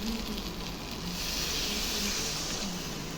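Liquid gravy hisses into a pan of spiced potato and pointed gourd frying in oil, a steady close sizzle with a brighter bubbling swell partway through.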